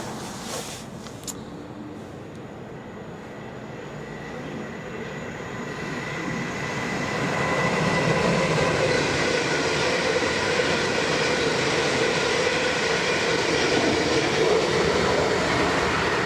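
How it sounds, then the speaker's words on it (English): Trains on the London & Southampton Railway rumble past in a continuous roll of wheels on track, growing louder after the first few seconds and holding steady, with no talk. "more trains coming"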